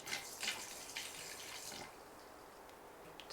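Water pours steadily into a blender jar holding a few small shells and a splash of vinegar, a soft, close trickling and splashing that fades slightly toward the end, no one speaking.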